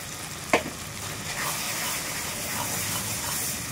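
Spices with green chillies and ground dried chillies sizzle steadily as they are sautéed in a pan, a close, even frying hiss broken by a sharp clink near the start and another at the end.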